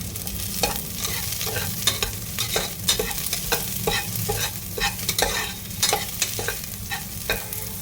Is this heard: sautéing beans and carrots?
yes